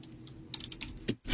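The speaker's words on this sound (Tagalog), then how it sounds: "Narinig yung keyboard mo eh." Quiet computer keyboard typing with a handful of scattered key clicks and a louder final keystroke, heard alone during a late-night broadcast.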